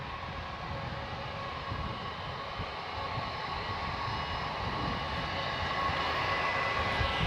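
A Jetstar airliner, an older faded jet, takes off from Gold Coast Airport bound for Sydney, its engines a broad, steady roar heard from a distance that slowly grows louder.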